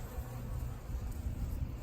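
A steady low buzzing of many poisoned, struggling honey bees at a hive under robbing, faint and continuous, with no voices.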